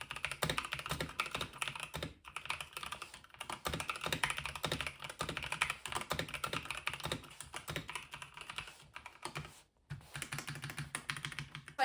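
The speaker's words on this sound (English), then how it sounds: "So as you can hear, the keyboard is very clicky" Steady, rapid typing on a clicky Logitech G Aurora gaming keyboard, dense key clicks close up with a couple of brief pauses between bursts, no voices.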